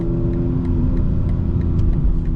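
A 2025 BMW M4 Competition xDrive with a custom-tuned transmission hums and rumbles steadily from inside the cabin while driving, a loud continuous engine drone with no talking.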